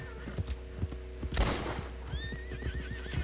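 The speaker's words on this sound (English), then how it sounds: "Oh, that's a horse. I don't want to kill the horse." A horse in Red Dead Redemption 2 neighs loudly in one long whinny midway through, amid game ambience with occasional clip-clop hoof hits and a high rising tone near the end.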